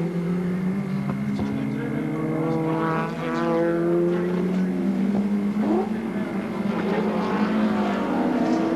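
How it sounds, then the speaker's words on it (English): Holden Commodore Group A touring cars race at Symmons Plains in the 1990 Australian Touring Car Championship, their engines roaring loudly and rising and falling in pitch as they pass close by. "go through the sweeper now with Percy in the Commodore"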